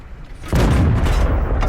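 A single tank cannon shot in World of Tanks, fired by an AMX M4 mle. 45: a sudden heavy boom after a quiet moment, followed by a sustained rumbling tail.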